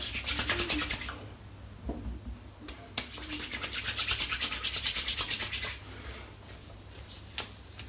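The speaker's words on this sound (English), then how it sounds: "only get a small amount on your finger and then rub it together in your hands" Hands rub a small dab of oily beard balm together in close, brisk back-and-forth strokes, a soft rasping friction that swells and fades over several seconds, with a faint tap or two and no talking.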